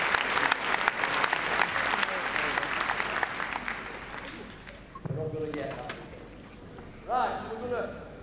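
Spectators at a Crufts 2010 gundog display break into loud applause that fades over several seconds, then someone speaks and the crowd murmurs in the arena.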